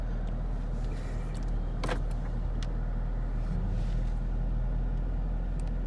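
A Chevrolet Camaro SS idles as it backs slowly out of a garage, a steady low engine rumble throughout with a brief click partway through, moderately close.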